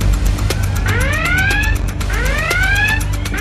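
A high water level alarm sounds loudly and alone, repeating a rising electronic warble in two clear bursts over a steady pulsing tone.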